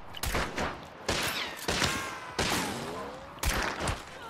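Gunfire in the video game Hunt: Showdown, several sharp shots spaced about a second apart with reverberant tails ringing out after each.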